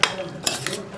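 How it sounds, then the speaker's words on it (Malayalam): Beef with ginger, garlic and salt is stirred in a pan for Koorkka beef masala, with a few sharp scrapes and clinks of a spoon over a faint sizzle. "ഇതെല്ലാം ചേർത്ത് നന്നായിട്ടൊന്ന് ഇളക്കിയെടുക്കുക."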